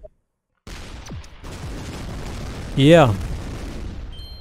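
A single loud shot in the artillery game ShellShock Live booms near the middle, preceded by scattered softer impacts; someone briefly says a word over the background.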